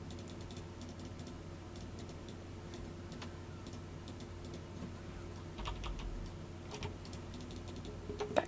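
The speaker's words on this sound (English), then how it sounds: "I'm just going to lightly clickety click around here" A mouse and keyboard click steadily while a brush is worked in Photoshop, giving quiet, close, irregular clicks and taps over faint room hum.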